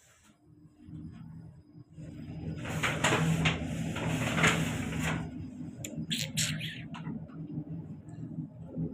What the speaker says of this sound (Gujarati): ચકલીનો અવાજ આવે